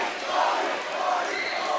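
A high school student section cheers at a varsity boys basketball game between Haslett and DeWitt after a great play, a steady broad crowd roar with shouts, sustained throughout at moderate distance.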